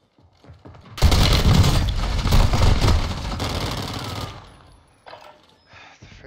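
Rapid automatic gunfire in a shooter video game rattles out as a loud, dense burst for about three seconds, then fades out, leaving a few quieter shots and faint game noise.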